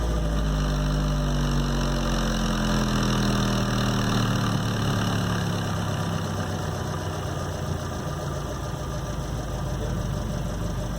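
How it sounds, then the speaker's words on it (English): A 2013 Fiat 500 Pop Automatic engine idles steadily and low, humming continuously at close range, with a faint mechanical ticking layered over a constant rumble and no voices. "Very smooth engine."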